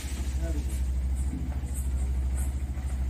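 A car engine idles steadily with a low constant rumble throughout, during a family Diwali celebration, while people talk nearby over it.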